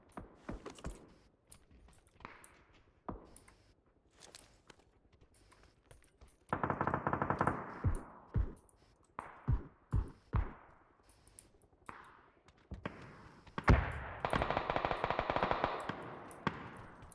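Gunfire from a window in PUBG: clusters of sharp shots and rapid automatic bursts, moderately loud, separated by quieter gaps with faint clicks and mechanical noise.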